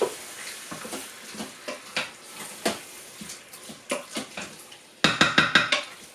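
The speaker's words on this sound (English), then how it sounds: "Mixing that up." Chicken gizzard curry stirred in a pan, with a run of soft scraping, clinking strokes at an uneven pace, ending in a louder burst of quick, bright clatters near the close.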